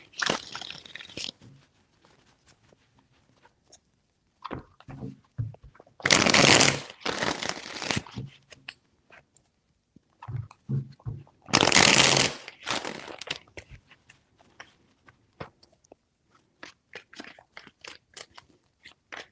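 Tarot cards are riffled and shuffled in a few separate bursts, crisp papery flurries with quiet pauses and small handling noises between them.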